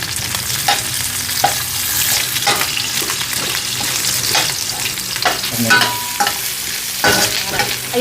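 Native Ilocos garlic sautés in rendered meat fat for pinakbet, a steady close sizzle with repeated scraping stirs of a spoon against the pan throughout.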